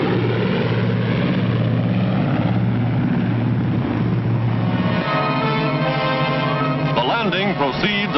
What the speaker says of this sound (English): fighter planes return to the carrier to refuel, rearm, and stand by to repel any new attack from the sky